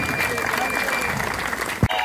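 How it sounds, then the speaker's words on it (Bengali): Loud, dense clapping from a crowd at the prize ceremony of an inter-ITI office cricket tournament final, sustained throughout with a voice speaking over it and a brief thump near the end. "জোরে হাততালি"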